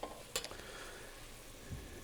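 Dry Italian wine being stirred into mushroom risotto rice in a pan: a quiet, soft sizzle with a couple of brief scraping clicks from the spoon.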